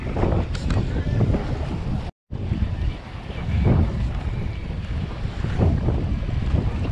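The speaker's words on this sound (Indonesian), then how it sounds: "Sekarang start sudah angin daripada selatan" Strong wind blows across the open sea aboard a fishing boat out slow pitch jigging for pearl perch and amberjack, a steady loud rush of wind and water with a brief dropout midway.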